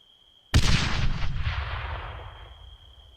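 A grenade blast in the ARMA III battle royale game: one sudden loud boom over a faint steady tone, followed by a long rumbling decay that fades over about three seconds.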